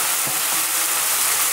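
Chicken frying in a wok gives a close, steady sizzling hiss with a few soft stirring knocks near the start.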